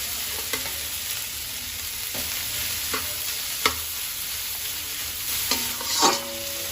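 Green chillies with crushed garlic and ginger stir-fry in a hot pan, giving a steady close sizzle broken by a few sharp spatula scrapes and clinks.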